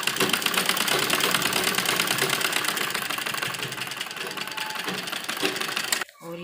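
A sewing machine stitches a sleeve into a net lehenga blouse, running fast and steady with a dense rapid needle clatter for about six seconds before stopping abruptly.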